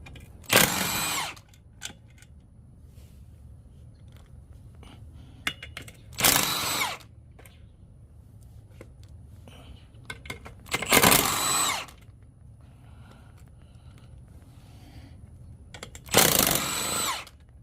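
A power tool spins out 10 mm bolts on a Ford Focus engine during an engine swap, four separate loud whirring bursts spaced several seconds apart with quiet workshop noise between them.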